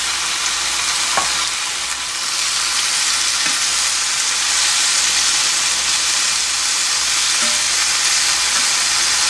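Tofu fries in hot cooking oil in a frying pan for Korean mapo tofu, giving a steady, close, even sizzle that runs unbroken throughout with a few faint clinks of utensils and no talk.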